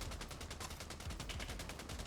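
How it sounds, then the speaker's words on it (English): Video game gunfire and explosions come as a dense, faint stream of rapid, crackling shots with no gaps and no voices. "We got a few explosions off of it."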